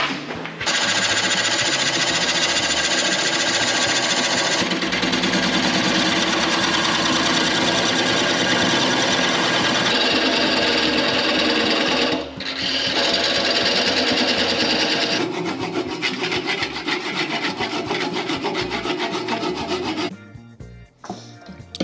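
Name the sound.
cutting a block of wood for a wooden vase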